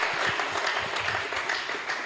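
A church congregation applauds through a sermon, the clapping dense, steady and continuous like a broad wash of hand claps filling the room, with no break or voice standing out.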